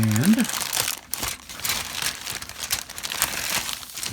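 Packaging crinkles and rustles steadily at close range as parts are pulled out of a box, with voices talking over the handling noise.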